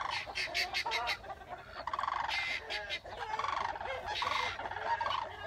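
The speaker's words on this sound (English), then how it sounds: "The sandhill cranes are back." Sandhill cranes calling outdoors, a series of rolling, rattling trumpet-like calls repeating in bursts over about five seconds, fairly loud and mixed with other bird calls.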